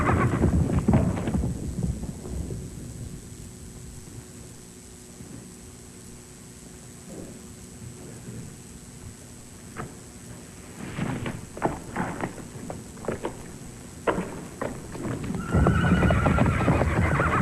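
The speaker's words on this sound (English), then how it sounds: "Damn them horses. Stampeded again." A herd of stampeding horses gallops with heavy, rumbling hoofbeats, loud at first, easing, then building again, with sharp whinnies and neighs cutting through near the end, all in an old 1941 film soundtrack.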